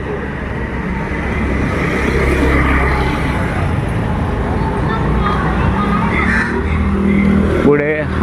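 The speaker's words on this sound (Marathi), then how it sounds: "गाड्या वगैरे आहेत." Steady road traffic with passing cars near a newly built residential building in Ambernath, a continuous mid-level rumble throughout, with people talking over it.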